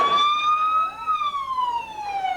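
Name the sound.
siren sound effect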